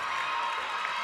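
Crowd at a high school playoff volleyball game, a steady wash of cheering and noise filling a gym, heard briefly without a clear voice over it.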